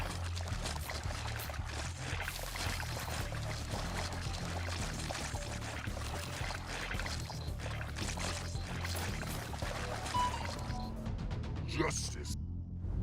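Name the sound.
water attack sounds from the video game Death Must Die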